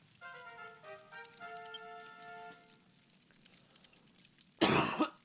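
A single loud, harsh cough bursts out near the end, following a quiet stretch of gentle chiming tones from Dragon Quest X music.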